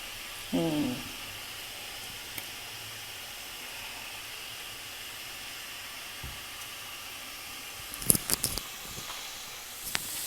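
Murukku dough frying in hot oil for homemade Diwali snacks gives a soft, steady hiss, with a brief squeak near the start and a cluster of light clatters toward the end.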